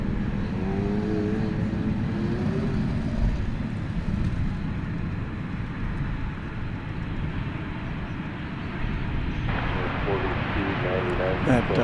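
American Airlines flight 2043 from Punta Cana, an airliner at DFW Airport at night, gives a steady, loud engine roar that holds throughout, with a voice talking over it.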